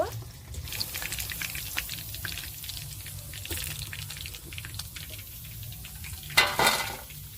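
Chicken pakoras deep-frying in oil for a Bengali recipe, a steady crackling sizzle with scattered pops and a brief louder splash of stirring near the end.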